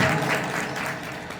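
An audience claps together at a 20th anniversary celebration for a magazine, a dense, even burst of applause that fades slightly as it goes on.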